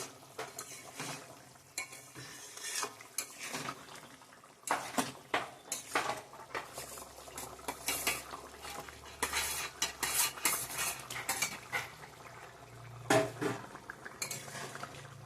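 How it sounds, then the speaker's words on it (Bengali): Paneer being added to a Bengali cauliflower and potato curry and stirred in a pot, with irregular spoon scrapes, clinks and knocks against the metal over a soft simmering bubble, close by. "পনিরটা দিয়ে দেবো এখন"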